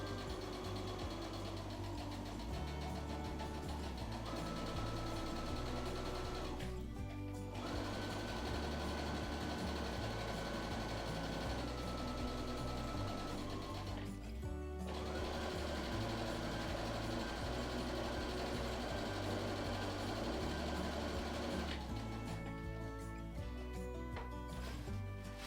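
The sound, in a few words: sewing machine stitching linen close to the edge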